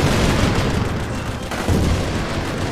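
Heavy gunfire in the toy army battle game Attack On Toys, a dense continuous rumble of shots and booms blending into a loud wash with no clear gaps.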